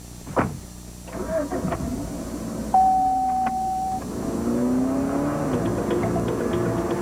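A Mazda 3 car drives past with a rising engine note and whooshing motion, backed by a steady electronic tone and swelling music, moderately loud with no talk.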